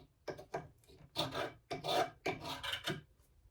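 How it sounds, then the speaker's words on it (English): Dried glue being scraped off a 1950s Armin Paulus archtop guitar with a rather dull scraper, heard as close, rasping strokes that repeat in an uneven rhythm, with no talking. "just scraping off the glue with a rather dull scraper"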